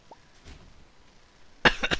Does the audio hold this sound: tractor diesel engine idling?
no